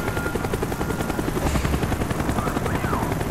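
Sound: helicopter in Call of Duty: Black Ops video game

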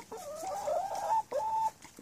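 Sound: chickens clucking with rooster

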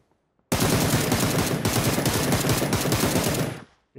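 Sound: gunfire from PUBG video game

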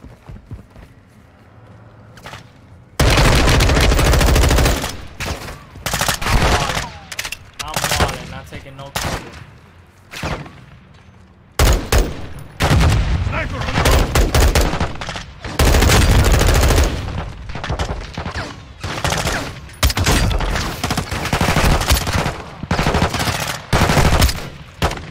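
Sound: gunfire in Modern Warfare 2 video game campaign

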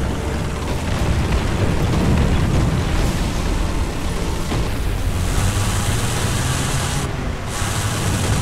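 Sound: tank exploding in the video game War Thunder

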